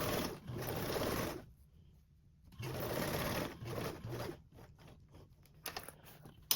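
A sewing machine stitches webbing onto a duffle bag in loud close bursts of rapid stitching, separated by brief pauses and a few shorter runs.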